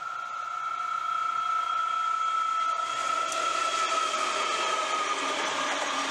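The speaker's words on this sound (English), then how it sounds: "2838 leads the X62N9 consist, which has now become 6EN0, Townsville to Giru Creek empty cattle train, into Anthill Plains." A Queensland Rail 2800 class diesel locomotive hauls an empty cattle train into Antill Plains, its engine tone holding a steady drone that thickens and grows louder as it draws nearer, joined by the rattle of wagons.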